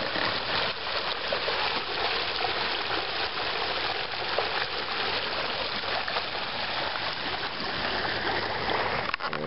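Storm floodwater rushing and gushing steadily down a street toward a sewer outlet, a loud continuous flow with splashing, close by and without voices.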